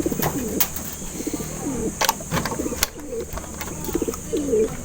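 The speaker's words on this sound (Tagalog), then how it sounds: "Dito naman yung mga ibon natin" Breeding pigeons in a loft, including Black African and line-bred Basra birds, coo in repeated soft rolling phrases, several birds close by with scattered wing flaps and clicks throughout.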